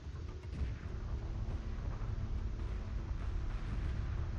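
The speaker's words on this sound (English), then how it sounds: "Missile destroyer using its barrage on the interceptors." Missile destroyer unleashing a missile barrage on interceptors in the space strategy game Homeworld Remastered: a dense, continuous roar of overlapping blasts and rumbling explosions, loud and sustained with no talk.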